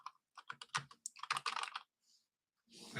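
Keys clatter on a Redragon K618 Pro low-profile RGB keyboard in a quick burst of close, crisp clicks, then a pause and a few softer taps.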